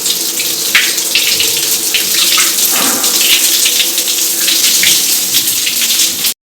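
Tap water gushing steadily into a sink beside a stove as soap and other items are washed, loud and close, running without pause until it cuts off abruptly near the end.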